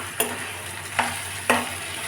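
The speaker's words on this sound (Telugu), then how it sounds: "ఇలాగ మనం కలుపుకోవాలి. ఈ బంగాళదుంప తురుము కూడా పచ్చి వాసన పోవాలండి." Grated potato stir-fried with salt sizzles steadily in a pan, broken by three sharp scraping stirs about half a second to a second apart, close and clear.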